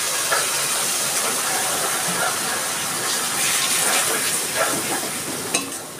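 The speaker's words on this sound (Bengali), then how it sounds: "এবার আমি একটুখানি জল দিয়ে দিচ্ছি।" Steady loud sizzling and bubbling hiss as water goes into a pan of cooking lentil dal with small crabs and spices, continuous and close with faint clinks, no talk.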